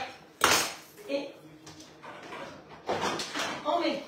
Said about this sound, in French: on met le couvercle